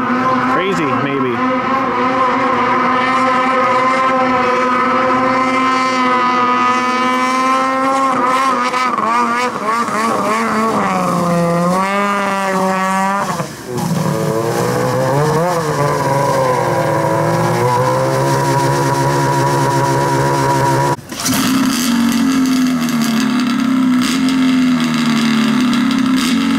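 Loud nitromethane-boosted engine at a cranberry festival in Bala, Ontario, roaring steadily with pitch rising and falling as it revs, harsh and close for the whole span, with a brief dip midway and a sharp change near the end.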